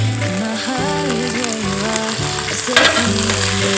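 Chopped tomatoes tipped into potatoes and cumin frying in a pan for a matar paneer dish, giving a steady close sizzle with a brief louder burst as they land, with no talking.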